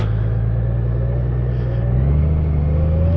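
Honda Goldwing DCT motorcycle engine running in sport mode, a steady close low rumble that holds its revs, rising slightly in pitch near the end, with no talk.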